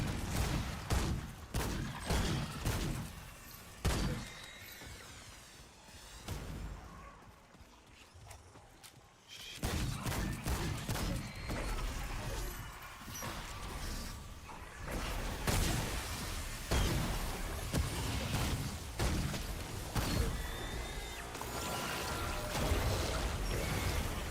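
Mortar fire and battle noise in the video game Remnant 2: dense, continuous rumbling impacts and shots at a steady moderate level, with a brief quieter stretch partway through.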